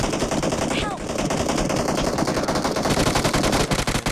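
Rapid automatic gunfire from a shooting video game, dense bursts of shots rattling continuously close up, with a voice talking intermittently over the shooting.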